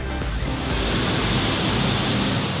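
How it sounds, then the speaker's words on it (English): Heavy rain roars in a dense, unbroken wash of noise, loud and close, with gusty rumbling underneath and no voices, in Manila. "I'll give you a view of this hard rain out here."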